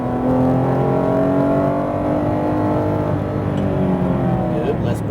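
A Porsche GT3 RS accelerates on a racing track at Speed Vegas, its engine holding a loud, steady, rising drone throughout, with an instructor's voice speaking over it.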